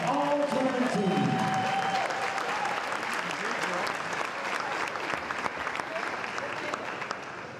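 Crowd applause at a high school district volleyball championship honoring the all-tournament team, sustained clapping filling the gym, with a brief voice and tones at the start.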